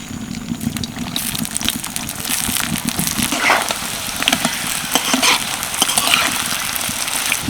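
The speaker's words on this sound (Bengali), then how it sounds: "এবার সবগুলো ধোকা তেলের মধ্যে ছেড়ে দেব" Masoor lentil dumplings fry in oil in a wok, a constant close sizzle full of crackling pops and light scraping, with no speech.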